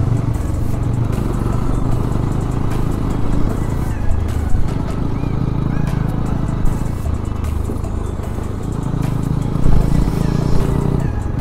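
A motorbike rides along a road in a group on the way to a festival in Nagaland, its engine droning steadily under wind noise and scattered knocks, with people talking over it.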